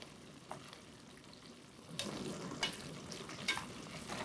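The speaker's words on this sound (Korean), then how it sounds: "어느 정도 볶아지면 물을 조금만 넣고 다시 볶아줍니다." Seaweed stir-fried in a pan for perilla seaweed soup, a steady sizzle and frying hiss with a few stirring scrapes, louder after the first two seconds, heard alone without talk.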